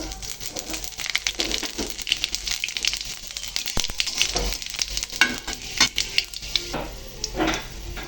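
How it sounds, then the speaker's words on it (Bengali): Panch phoron five-spice seeds and bay leaf crackling and sizzling in hot oil in a pan, a steady dense close sizzle with sharp pops throughout. "দিয়ে দিচ্ছি পাঁচফোড়ন"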